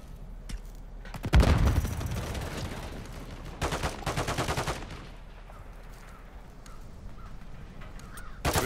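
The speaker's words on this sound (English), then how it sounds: "Taking effective fire" Video game gunfire in a military shooter: loud bursts of automatic fire around the 1.5 second mark and again near 4 seconds, with quieter scattered shots and background battle ambience between them.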